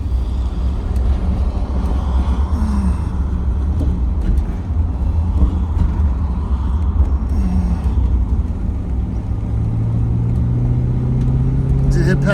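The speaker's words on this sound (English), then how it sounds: "I can hear the four barrels kick in." Engine of a 1961 Cadillac Sedan Deville with a four-barrel carburetor, building steadily as the car accelerates on a paved road, a continuous close low rumble inside the cabin with a rising tone toward the end.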